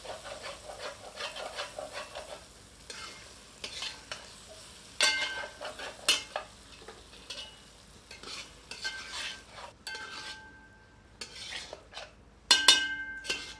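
Ground fried onion stirred into korma ingredients in a pot, with repeated scraping and clinking of a spoon against metal over a soft sizzle, irregular strokes, close up and with no talking.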